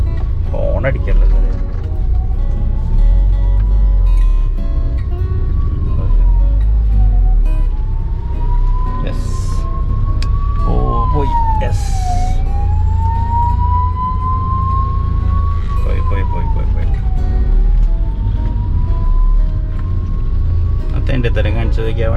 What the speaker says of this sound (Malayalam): ആംബുലൻസ് കയറി പോലെ വലിയ ആംബുലൻസാണ്.